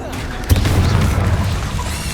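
Blasting Bombarda spell explosion in Hogwarts Legacy on PS5, a single heavy boom with a low rumbling tail amid ongoing combat noise, near and loud.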